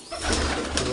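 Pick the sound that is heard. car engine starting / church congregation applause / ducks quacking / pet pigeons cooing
pet pigeons cooing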